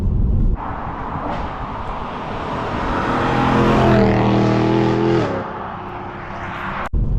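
A BMW E92 M3's high-revving V8 builds steadily in pitch as it accelerates, loud and close, with rising harmonic whine peaking mid-run before the revs drop off near the end.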